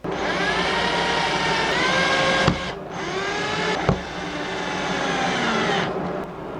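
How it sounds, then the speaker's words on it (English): A loud, steady mechanical whine of a power drill boring small pilot holes runs nearly the whole time, pausing briefly twice with sharp clicks between bursts. "I just need to drill the little pilot holes so I can screw this to the flange"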